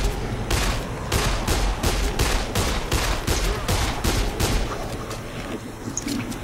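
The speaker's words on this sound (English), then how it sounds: "I'm just gonna use a gun." A gun fires a rapid string of about a dozen close, sharp shots as a clip is emptied in the Dead Island video game, the bursts tapering off into background noise.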